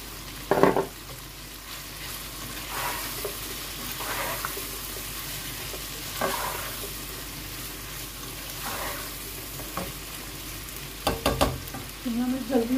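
Capsicum sizzles in a frying pan while being stirred, a steady hiss broken by repeated scraping strokes of the spoon and a few sharper clanks of utensil against pan near the end.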